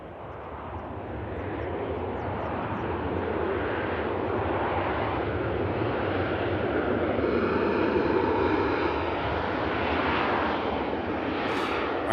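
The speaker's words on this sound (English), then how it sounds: "Ryanair should make the rapid exit now there" A Ryanair airliner lands at Manchester Airport, a loud continuous engine and rushing-air roar that stays broad and steady throughout, close by, without speech.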